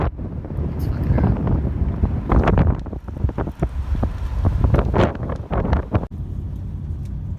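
Strong wind buffets the microphone in Iceland's outdoors, a loud, continuous rumbling roar with gusty swells throughout, and faint voices now and then under it.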